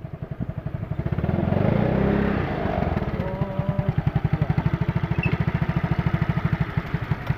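A small BMW motor scooter engine revs briefly, then settles into a steady, rapid putter as it idles close by.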